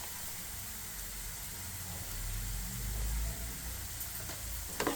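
Onions with turmeric and chili powder frying in a pan for a Telugu bitter gourd fry, a steady low sizzle and hiss that swells slightly midway, with a faint clink near the end.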